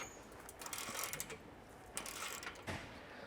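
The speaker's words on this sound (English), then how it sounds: "We're gonna start tightening everything down from the front to the back." Exhaust clamp bolts on a third-generation Toyota Tundra being tightened with a ratchet during an aFe Vulcan exhaust install, producing quick, close clicking bursts of metal ratcheting.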